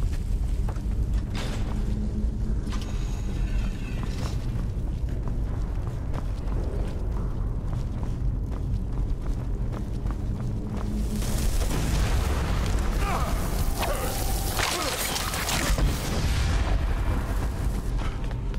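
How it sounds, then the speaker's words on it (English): In Skyrim, a magical battle ends in a large explosion: a deep, continuous rumbling roar that swells into a louder burst with crackling debris partway through, followed by a long, fading tail. "Explosion, man. Good explosion."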